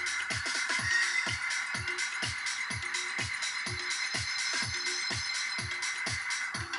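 Music played through top speaker cabinets fed only the highs and mids from a crossover, with a steady beat of thin, clicky transients and bright cymbal-like wash, little low bass, continuous and fairly loud.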